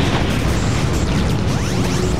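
A satellite cannon blasts in the Shadow the Hedgehog video game: loud, continuous explosive booms and crashing bursts fill the whole stretch, with no talking over them.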